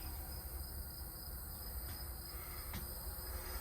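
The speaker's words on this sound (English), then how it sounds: "Hear the crickets coming up." Steady insect chirring from crickets after a storm fills the background, a dense continuous drone with no voices.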